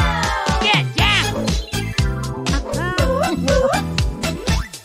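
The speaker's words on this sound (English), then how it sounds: "Dog." A cartoon dog yips, barks and whimpers in quick repeated bursts over bouncy music, close and loud in a preschool animal learning setting.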